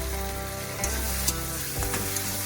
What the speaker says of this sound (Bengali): এই ভেজে রাখা চিংড়ি মাছগুলো আমি এর মধ্যে দিয়ে দিচ্ছি।